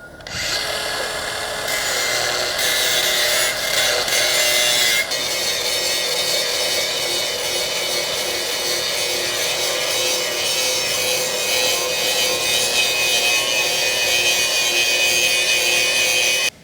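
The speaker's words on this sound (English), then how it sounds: "So that's where we'd use a grinder" An angle grinder bevels the end of a field-cut ductile iron pipe, producing a loud, continuous abrasive whine and grinding roar that holds steady throughout, close up, with no talking.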